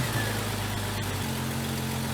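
Jeep Cherokee XJ engine fitted with an aluminum radiator and electric fan, idling steadily at close range with a low, even hum that shifts slightly partway through; no voices.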